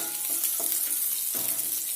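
Veg momos fry with tomato chutney in a hot pan, giving a steady, loud sizzle with a few soft stirring scrapes and no voices.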